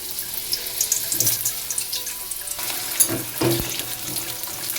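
Pumpkin frying in hot mustard oil with five-spice gives a steady, close hiss and sizzle, with a few soft stirring clatters over it.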